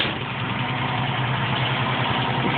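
A 1973 International 1310 one-ton two-wheel-drive dually truck idles nearby with a steady, deep, rumbling engine drone that holds constant through the short stretch, with no voices.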